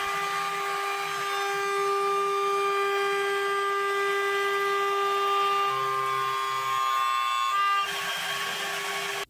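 A DMC2 CNC mill chamfers a 4140 steel octagonal wrench, giving a steady, loud, continuous whine of sustained tones that holds evenly, then shifts and brightens near the end.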